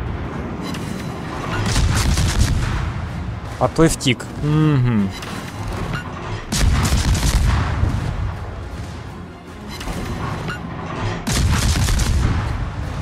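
Warship artillery fire in the naval game World of Warships, several loud booming salvos in bursts across the clip, with someone talking between shots.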